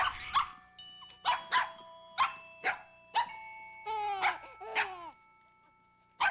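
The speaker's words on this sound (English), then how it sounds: "These dogs do not like this toy." Dogs bark at a toy in Super Monkey Ball. Sharp, regular barks come close together, then whiny yelps, with steady chiming tones ringing underneath.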